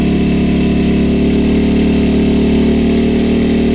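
An AYERBE 1200i inverter generator engine runs steadily under a 1 kW load, a loud, constant drone with no pauses and no voices.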